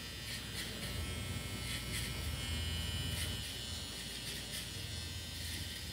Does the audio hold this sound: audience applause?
no